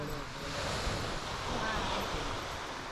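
Waves wash softly onto a sunny Michigan beach while wind buffets the microphone, a faint, even rush of surf and gusts with no distinct breaks.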